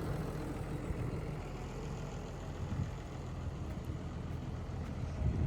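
A farm tractor's engine runs steadily nearby, a continuous low rumble with a rough, even drone throughout, with no talking.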